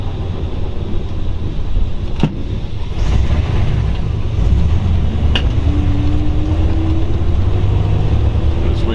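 A 1940 Ford Deluxe Convertible with a three-on-the-tree manual drives on a test run near Camp Verde, its engine a steady low rumble under constant wind buffeting, with a faint rising tone partway through.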